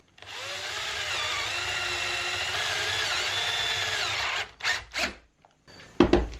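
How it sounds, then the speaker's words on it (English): A drill bores a pocket hole into wood for a French cleat using a pocket hole jig, one sustained whining run of about four seconds, followed by a few short scraping knocks. "drill a hole"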